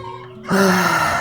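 A quiet moment gives way to a loud burst of close chicken calls, clucking and squawking in a short rush.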